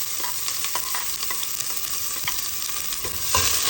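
Onion sautéing in oil in a home kitchen pan, a steady bright sizzle broken by scraping stir strokes from a utensil, close and continuous with no voices.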